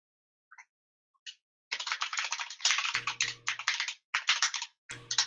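Typing on a computer keyboard: a brief hesitant tap or two, then a steady run of quick, close keystrokes with a couple of short pauses, no voices.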